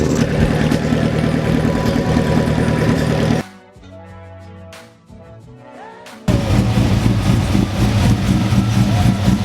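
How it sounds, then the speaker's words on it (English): A motorcycle engine idles loud and steady at a racing event, with a low throbbing rumble that cuts out briefly midway before resuming at full level. "Look at that motorcycle."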